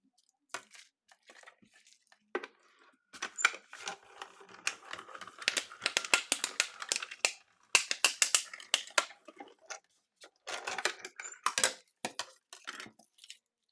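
A die cutting machine works through card stock, making a run of dense, crisp clicking and crinkling bursts that come in close, uneven clusters with short pauses between them.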